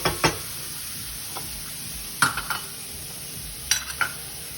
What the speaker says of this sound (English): We've got our garlic, our ginger, our onions, and our carrots, and we're just gonna let this cook. We're gonna let it start sauteing up.